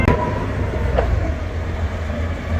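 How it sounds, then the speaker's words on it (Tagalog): A train departs at a station, with a steady, loud rumble of rolling cars, low clatter and a brief squeal, continuous throughout with no talk. "Ayun po yung tren, maalis na."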